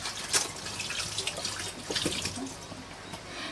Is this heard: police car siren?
no